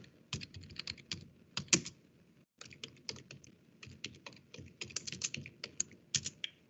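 Rapid typing on a computer keyboard while entering a network lookup command, dense clicking keystrokes in two bursts separated by a short pause, close and clear with no talk.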